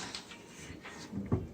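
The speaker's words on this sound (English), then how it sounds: "Open the door." A quiet, brief wooden clack of a kitchen cabinet door being opened near the end, with faint handling rustle before it.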